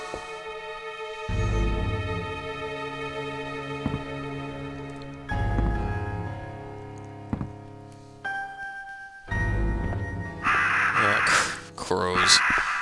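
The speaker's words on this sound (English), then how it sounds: "Crows." Crows cawing in the Resident Evil Survivor video game, harsh calls recurring over eerie sustained game music and droning tones, with a voice talking now and then.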